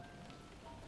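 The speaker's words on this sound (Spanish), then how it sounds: "Comienza a llover." Rain beginning to fall, a steady soft patter of drops on a surface, faint and evenly spread with no voices.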